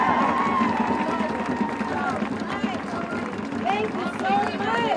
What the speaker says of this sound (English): Thank Alexis and clap it up for Alexis